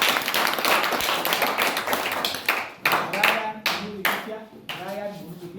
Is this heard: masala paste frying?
no